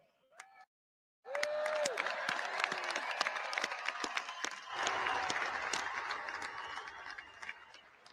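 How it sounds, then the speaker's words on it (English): Large audience at the 2021 US Air Force Academy graduation breaking into sustained, loud applause for the graduating class, dense clapping and some cheering that rises after a brief quiet moment and holds to the end. "Give a huge round of applause to the class of"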